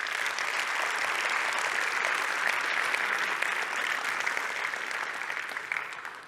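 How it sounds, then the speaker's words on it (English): A large conference audience applauds loudly and continuously, the clapping holding steady before tapering slightly at the end. "Give a huge round of applause to them,"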